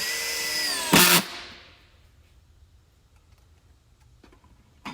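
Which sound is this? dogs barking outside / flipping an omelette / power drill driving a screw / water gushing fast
power drill driving a screw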